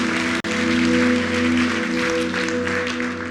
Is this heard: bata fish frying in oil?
no